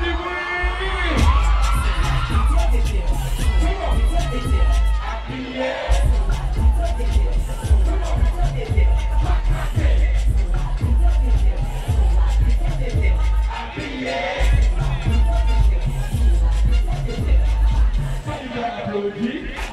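A dense carnival crowd on Sunday Gras in Fort-de-France, Martinique, cheering, whooping and yelling continuously over booming music beats, loud and close, with a voice shouting above the noise.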